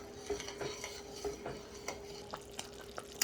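A spoon stirs thickening, caramelizing pecan candy in a pot, scraping and knocking against the sides in an irregular rhythm over a soft bubbling sizzle, close and moderately loud.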